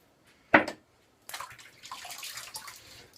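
A faucet briefly runs water for a shaving brush at a wet-shave setup: one short splash, a pause, then a soft, steady trickle with drips, fairly quiet and close.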